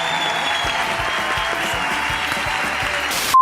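Loud, continuous audience applause greets the band, a dense steady clatter of clapping that fills the room for about three seconds before breaking off into a short electronic tone.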